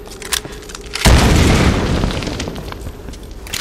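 A grenade detonates in Tomb Raider 2013, a sudden loud boom followed by a rumbling, decaying roar, preceded by a few small clicks and thumps.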